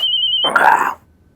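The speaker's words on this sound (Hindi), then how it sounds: "अरे ये फोन आ गया" A telephone rings briefly, a steady electronic tone followed by a short burst of louder ringing, close and then cut off.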